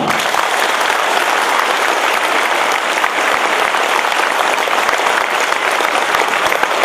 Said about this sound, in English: Give a big clap to Kama.